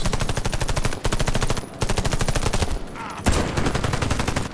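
Sustained machine gun fire in the free-to-play shooter Warface: loud, rapid, evenly spaced automatic bursts, with two brief breaks between long strings of shots, up close.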